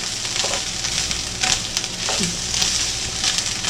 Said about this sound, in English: My tiny stirring spatula here.